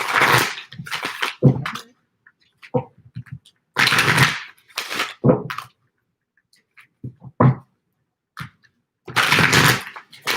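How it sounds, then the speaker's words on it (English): Oracle cards being shuffled by hand during a live card reading, heard as bursts of dry riffling and flicking in repeated clusters with short quiet gaps between them, close and fairly loud with no voices. "Okay, I keep shuffling."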